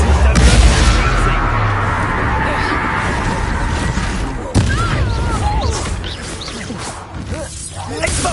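Spell combat in the video game Hogwarts Legacy, with an Incendio fire spell amid loud booms, crashes and a sharp blast midway, under continuous talking from a player.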